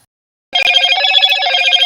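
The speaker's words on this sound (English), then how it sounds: "My phone was ringing." A mobile phone rings suddenly after a brief silence, a loud, close, bright electronic trill that repeats quickly and continues to the end, heard alone during an evening walk.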